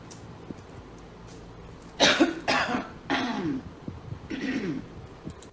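A person coughs several times in a row, harsh and close, with short pauses between bursts.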